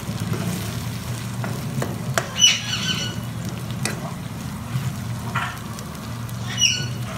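Garlic and ginger frying in a pan for a chicken and capsicum dish, a steady sizzle with occasional spoon scrapes and stirring clatter close by, no speech.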